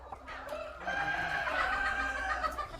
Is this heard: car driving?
no